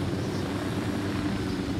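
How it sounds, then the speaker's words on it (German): Unidad military helicopter in the video game Ghost Recon Wildlands, a low, steady rotor and engine drone holding evenly at moderate volume, with no talk over it. "Das ist ein Unidad-Hubschrauber"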